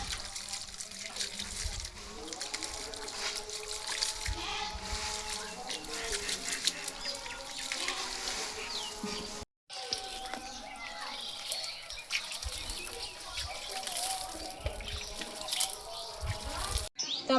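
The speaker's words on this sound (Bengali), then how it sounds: "এবার আমি গাছের গোড়াতে পানি দিব।" Water is poured gently onto the loosened soil at the base of a newly planted litchi sapling, a continuous trickling splash that runs on and off under background voices.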